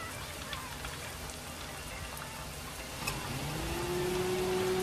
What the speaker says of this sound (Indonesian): Masih hujan cok.